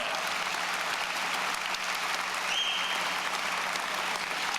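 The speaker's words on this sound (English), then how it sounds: "Big round of applause for the entire class of 2021." Steady, dense applause from a dinner audience saluting the Greater Buffalo Sports Hall of Fame class of 2021, a continuous wash of clapping at moderate level with no voices standing out.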